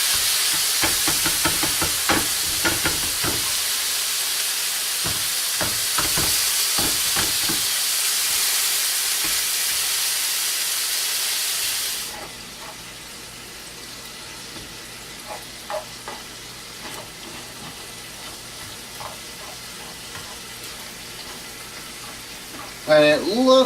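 Chili meat frying in a pan seasoned with crushed red pepper, a steady broad sizzle for about twelve seconds that then drops to a quieter hiss with light stirring clicks, a brief clatter near the end.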